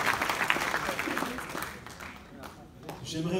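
Conference audience applauds a presenter with a moderate, fairly distant round of clapping that dwindles, then a voice begins speaking.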